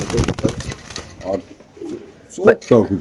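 A caged male racing pigeon coos at a bird market, soft throaty calls mixed with nearby bursts of people talking, the cooing loudest toward the end.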